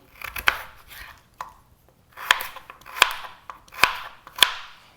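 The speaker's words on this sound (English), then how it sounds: "And you basically want to cut them into bite-sized cubes, like so." A knife chops yams into bite-sized cubes on a cutting board, with sharp close knocks, a few at first and then four evenly spaced strokes after a short pause.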